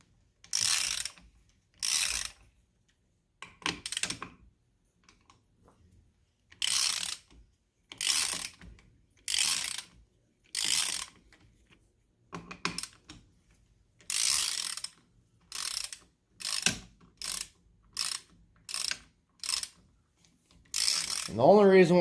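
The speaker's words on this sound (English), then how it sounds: "We're going to break these guys loose." Ratchet on a 1990–93 Honda Accord hub, clicking in repeated bursts of rapid pawl ratcheting as the hub bolts are broken loose, with short pauses between strokes and a brief grunt of effort near the end.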